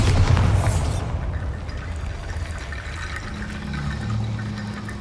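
Bombarda blasting spell explosion in Hogwarts Legacy: a loud, deep boom at the start that fades into a long rumbling decay with debris-like hiss, alone without speech.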